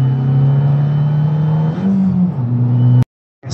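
Abarth 595 Competizione with a 180 hp engine revving hard in third gear, a loud close buzzing rise that dips briefly as the pitch shifts, then cuts off abruptly near the end.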